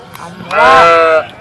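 A single sheep at a livestock market lets out one loud, drawn-out bleat lasting about a second, close and clear over faint background noise.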